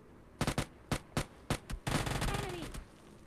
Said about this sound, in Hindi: इसको नॉक किया और M4 से फिनिश कर दिया